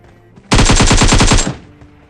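A loud, rapid burst of machine-gun fire in a battle royale shooter, about a dozen evenly spaced shots in one second, close and sharp, starting and stopping abruptly against a quiet background.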